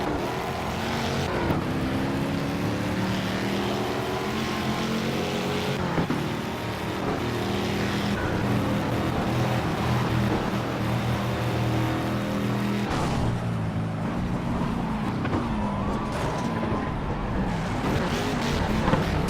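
Racing car engine in the Project Cars game on PS4, a loud continuous roar with rising and falling revs through gear changes, steady and close throughout.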